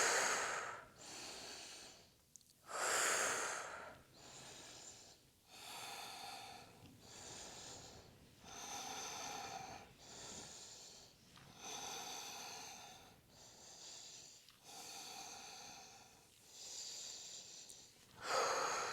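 Heavy, rapid breathing during a fast yoga exercise set, sharp forceful inhales and exhales repeating in an uneven rhythm of about a dozen bursts, close and loud with brief pauses between.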